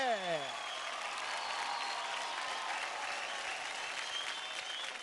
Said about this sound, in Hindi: come on guys, जोरदार तालियां हो जाए